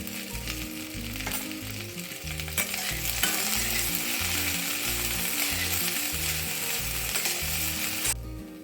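Okra pieces fry in hot oil with chillies and a pinch of turmeric while a spoon scrapes and stirs the pan in a steady rhythm. The sizzling hiss stays loud and continuous throughout.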